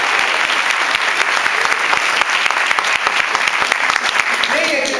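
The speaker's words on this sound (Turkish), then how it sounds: "Benim enerjimi yüksek tutan Pehlivan'ıma bir alkış alın" A theatre audience in Keşan gives loud, continuous applause after a staging of the play "Aşk Grevi", the dense clapping steady and close with faint crowd voices mixed in.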